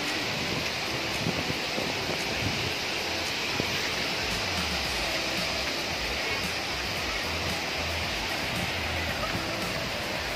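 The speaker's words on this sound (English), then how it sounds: "malapit na tayo sa bunganga ng waterfall." Mountain waterfall in Thailand with strong wind, a steady loud broadband roar of rushing water and gusting air filling the whole span, with faint voices briefly in the background.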